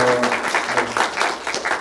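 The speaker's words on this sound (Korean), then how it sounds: "그럼 지금까지 이 자리를 빛내주신 우리 민 감독님께 큰 박수 한 번만 부탁드립니다." Audience applause for a film director at the close of a talk event, a dense patter of clapping hands sustained throughout with fluctuating intensity.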